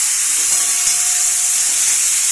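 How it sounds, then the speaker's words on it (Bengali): Chopped onion, capsicum and tomato fry in oil with whole garam masala and cumin, giving a loud, steady, hissing sizzle that holds throughout without pause; no voices. "ভালো করে সবগুলো একটু ভেজে নিয়েছি লাল লাল করে"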